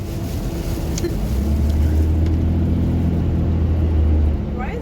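A Dodge Cummins diesel truck is heard from inside the cab as it accelerates, with a loud, steady engine drone and road rumble rising in pitch throughout.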